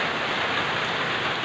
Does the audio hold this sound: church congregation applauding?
no